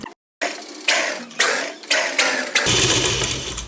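A sewing machine stitches tucks on a gown, running in several short whirring bursts with brief stops between, close and fairly loud, settling into a steadier hum at the end.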